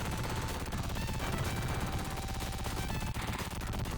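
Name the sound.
gunfire from a gun in a Sega Genesis shooting gallery video game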